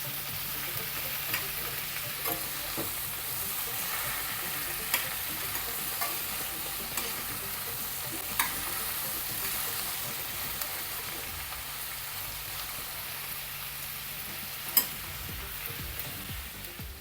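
Okra and onion avial simmering and bubbling in a pan while being stirred, a steady close sizzling hiss with scattered scraping clicks from the spoon throughout, no talking.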